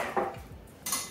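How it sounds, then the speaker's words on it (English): Parmesan-laced quiche filling whisked in a bowl with a metal utensil, brief clinking scrapes against the dish in a short burst, fairly close with no talking. "And whisk all together"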